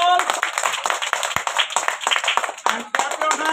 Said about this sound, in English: And clap your hand all.